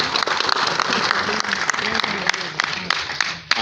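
A convention audience at the All Bamileke symposium in Denver, Colorado, gives loud, dense, continuous applause close by, with some voices mixed in.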